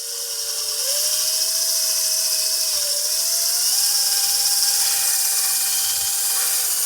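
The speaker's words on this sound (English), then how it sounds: "we can now close the honer up. In we go. And let's start honing." Hone spinning inside the cast iron cylinder of a Stuart Turner generator, a steady high whine with a slowly shifting pitch and a gritty hiss, close and continuous without speech.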